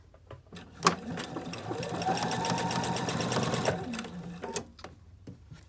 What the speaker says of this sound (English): I'm just going to do a fixed stitch and sew all the way around.